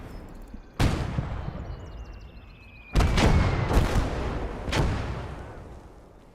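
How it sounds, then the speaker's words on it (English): Cannon fire in the WWII strategy game Gates of Hell: four sharp, heavy blasts, one early and three closer together later, each trailing off in a rumbling echo over steady battlefield ambience. "Cannon fire incoming."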